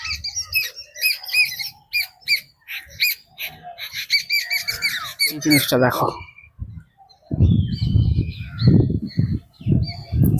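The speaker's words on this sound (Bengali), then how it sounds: "ভিতরে সুন্দর পাখির কলরব শোনা যাচ্ছে।" Birds in Eden Garden park in Kolkata, a dense run of squeaky chirps and squawks close by for the first several seconds, followed by people talking.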